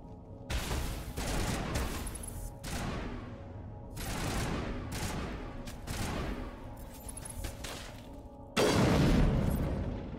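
Heavy gunfire in the Mass Effect 1 Legendary Edition video game, with dense bursts of automatic shots and booming impacts in three sustained volleys, ending in a louder, closer blast.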